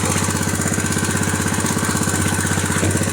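Engine of a fertigation system machine running at a steady idle, a close, loud, rapid knocking chug with an even rhythm and no talking.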